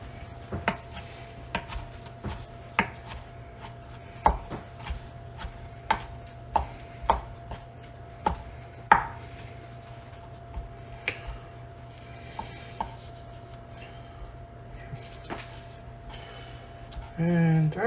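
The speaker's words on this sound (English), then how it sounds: "So I'm just going to give it a rough chop." A knife roughly chops ham hock meat on a cutting board in steady, close, sharp taps spread across the stretch, over a low background hum, with a voice heard at times.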